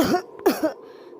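A few harsh, close coughs in quick succession, loud and raspy, with a throaty tail and no talking.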